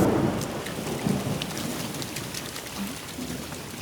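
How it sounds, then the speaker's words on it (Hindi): Heavy rain pours down steadily in a village during a thunderstorm, with a low rumble of thunder rolling under the dense, constant hiss of falling water. "बारिश बहुत हो रही है"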